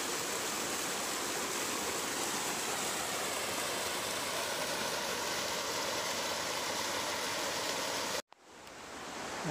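A steady, loud roar of rushing water fills the air without pause, then cuts out abruptly near the end.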